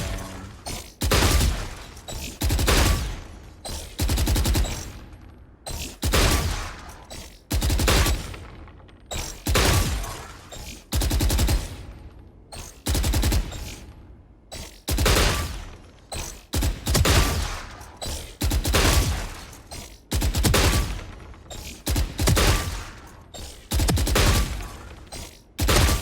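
Rifle fire from the old M4 in the video game Valorant rings out in repeated rapid bursts, each a sharp, loud rattle of shots separated by short pauses, with no talking.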